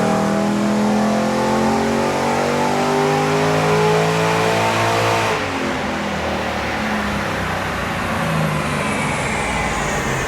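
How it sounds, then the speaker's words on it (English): An LS-swapped LC Torana on a dyno rolls through a loud sustained run, its V8 note climbing steadily in pitch and then dropping off abruptly midway into a lower, rushing wind-down. "what we'll do now, we'll give it a run of the dyno"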